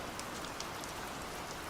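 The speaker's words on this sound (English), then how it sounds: "can just make out the gentle pattering of the rain against the windows" Gentle rain pattering steadily against window glass, a soft continuous hiss with faint scattered drop ticks throughout, close and even, with no voices.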